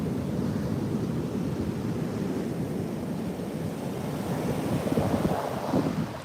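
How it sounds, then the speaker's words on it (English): Ocean waves and surf roll in a continuous loud wash, mixed with heavy wind buffeting on the microphone, with no talking. "That is the ocean right there."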